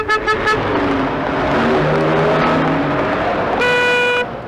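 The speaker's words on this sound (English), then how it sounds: "all around us is that deadly daily danger, traffic" Loud, close road traffic in Britain roars past, with a car horn tooting a few quick times at the start and a longer honk near the end.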